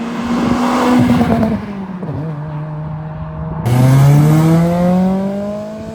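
Toyota Celica engine revving at full throttle with a running fault that causes black smoke and hesitation, loud and close, pitch climbing through gears with a dip and then a strong rise, no talk.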